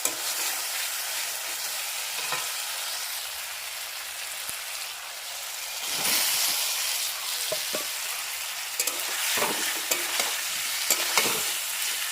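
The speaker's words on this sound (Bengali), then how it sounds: "টক দইটাকে একটু মানে ফাটিয়ে নিই লবণ দিয়ে আর মানে মশলার সাথে কষিয়ে নেবো" Sour yogurt stir-fried with salt and spices in a pan, a hissing sizzle that swells louder midway, with scraping stirs and small spatters.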